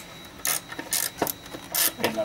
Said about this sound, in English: Tighten up your clamp.